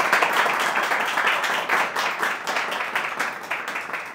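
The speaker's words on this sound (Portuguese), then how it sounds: "uma salva de palmas" Steady crowd applause fills the whole stretch, a dense even wash of many hands clapping at moderate loudness with no voices over it.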